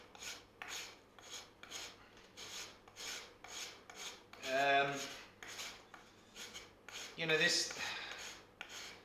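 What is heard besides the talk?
rasping corners off wooden tumbi neck by hand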